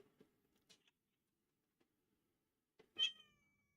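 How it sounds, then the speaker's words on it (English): A single cat meow rings out clearly near the end, preceded by faint taps and small noises in an otherwise quiet room. "Cat."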